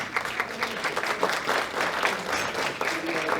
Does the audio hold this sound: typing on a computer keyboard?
no